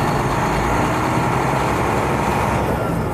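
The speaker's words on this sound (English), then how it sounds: "and then I moved the truck" Heavy haul truck hauling a roughly 75,000-pound load, its engine droning steadily and loud throughout, a continuous low rumble with broadband road noise and no break.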